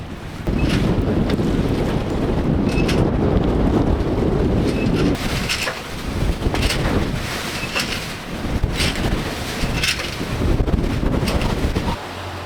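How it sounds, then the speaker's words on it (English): Strong 20 to 26 knot wind buffets a sailboat near Fiji's Blue Lagoon, roaring steadily into the microphone with water rushing and splashing along the hull, loud and continuous with no talk. "it is not the prettiest of days with 20 to 26 knots of wind"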